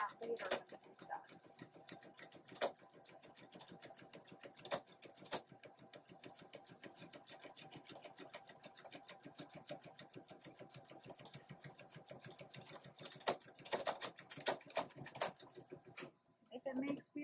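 A PFAFF embroidery machine stitches with a fast, steady, rhythmic mechanical whirr and clicks, faint and continuous, with sharper ticks and bumps toward the end and a voice speaking quietly over it.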